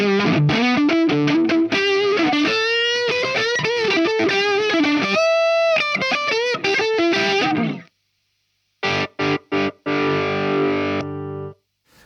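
An electric guitar plays through a Marshall amp on its high input, master near 6 and gain near 4, giving a loud crunchy distorted tone in a run of riffs, then silence, then a few choppy stabs and a held chord.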